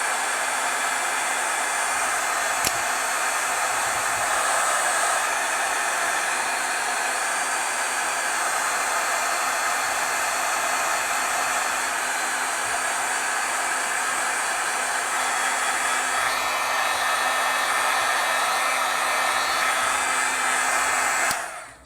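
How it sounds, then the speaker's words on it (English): A heat gun blows with a steady, even whoosh and hum for over twenty seconds as it heat-sets stamped artwork, loud and close with no pauses until it cuts off at the end. "I'm using my heat gun here more lately too."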